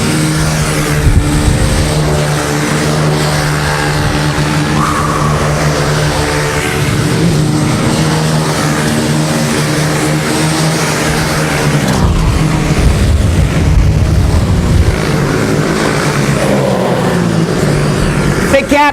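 Racing karts in a world masters super final pass at speed as continuous loud, high-revving engine drones that rise and fall as the leaders go by, with a faint commentator's voice underneath.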